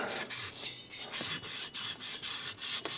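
A file rasps in quick repeated strokes across the top edge of a 175 Yamaha CT1 motorcycle cylinder bore, chamfering the metal with a close, rhythmic scraping and no talking.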